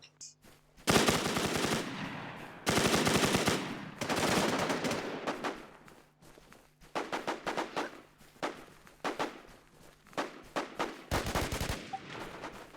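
Bursts of M4 rifle fire in the video game Infestation, loud and close, with sustained automatic volleys followed by rapid separate shots and short gaps, with no talking.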